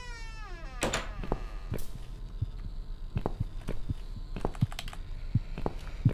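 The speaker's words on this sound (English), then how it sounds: "Why am I able to hear a heartbeat?" A heartbeat in the video game The Cat Lady: quiet, muffled low thumps repeating in a steady rhythm, with faint clicks and a soft hum underneath.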